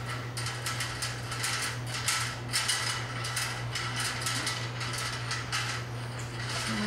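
Small plastic wire nut twisted onto electrical wires during a T12 to T8 fluorescent fixture retrofit, giving a rapid series of faint clicking, ratcheting turns over a steady low electrical hum.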